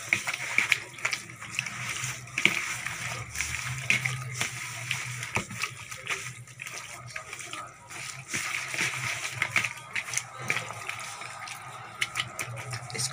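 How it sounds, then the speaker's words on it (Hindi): Wet, squelching slaps and sloshes of chicken being rubbed by hand with mustard paste for a marinade, steady and close throughout, with someone talking over it. "इसको अच्छी तरह मैरिनेट करते हैं। इसको हाथों से करूँगी"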